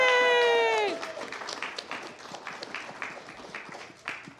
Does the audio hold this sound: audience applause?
yes